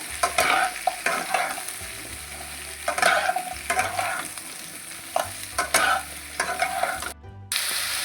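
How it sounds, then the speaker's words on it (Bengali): Raw mango morabba is stirred with a spatula in a pan over full heat, giving repeated close scraping strokes over a soft sizzle, with no talking. "তো খুন্তি দিয়ে আমি কিছুক্ষণ নাড়বো, 2 মিনিট মতো ফুল আঁচেই নাড়তে থাকবো।"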